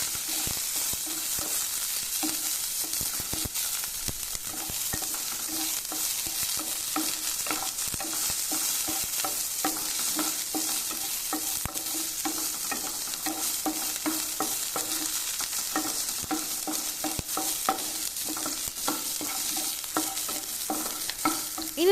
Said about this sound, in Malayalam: 10 അല്ലി മീഡിയം സൈസ് വെളുത്തുള്ളിയും 15 ചെറിയ ഉള്ളിയുമാണ് ചേർക്കുന്നത്. ഇനി ഇതുകൂടെ നല്ലപോലെ ഒന്ന് ഇളക്കി കൊടുക്കാം.